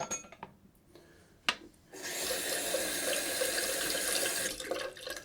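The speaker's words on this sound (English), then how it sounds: "This I just rinse in water." Tap water runs over a razor being rinsed in a sink, starting after some faint rubbing and a sharp knock, then a steady close splashing stream for about three seconds before tapering off.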